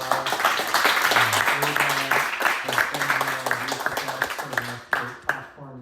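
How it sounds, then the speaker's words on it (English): Audience applause for a panel discussion at a film festival, a steady wash of clapping lasting several seconds and tapering off at the end, mixed with a voice or music running underneath. "a round of applause to Cinema Detroit as well, Tim and Paula"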